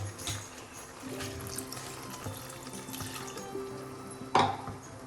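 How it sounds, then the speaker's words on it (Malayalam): Half a glass of water is poured into a small onion chicken curry cooking over a medium flame, giving a soft continuous wash of liquid sound with a sharper splash near the end. "ഈ സമയം നമുക്ക് അര ഗ്ലാസ് വെള്ളം ചേർക്കാം"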